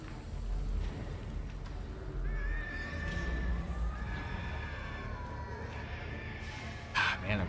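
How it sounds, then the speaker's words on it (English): Shrill squealing screams from pigmen in Darkest Dungeon, several rising and wavering cries over a low rumbling backdrop, with a louder burst near the end. "I'm sick of all the pig screams."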